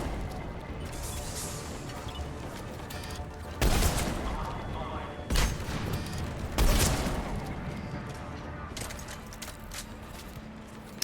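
Gunfire in the Mass Effect video game, a few sharp shots spaced several seconds apart over a steady game soundscape with busy background noise.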